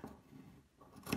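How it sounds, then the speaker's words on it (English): Scissors snipping fabric for a homemade face mask, a quiet soft cut or two ending in a sharper snip near the close, with no voices. "take your scissors and"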